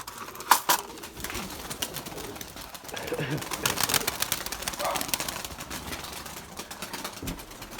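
Pigeons coo softly in a loft where pigeon breeders are kept, a low repeated cooing under scattered clatter and a voice talking nearby.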